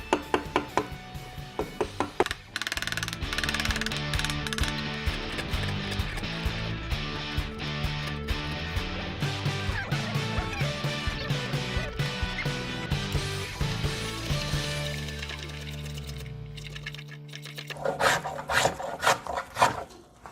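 Hand rasp scraping away excess wood from the seat of a handmade Maloof-style rocking chair, a steady run of coarse rubbing strokes close by with music playing underneath.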